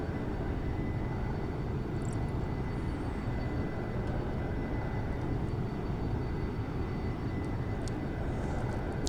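A jet aircraft in X-Plane 11 climbs near Mach 1 with a steady, unbroken engine roar and rushing wind, dense low-frequency rumble throughout, with faint tonal whines overhead.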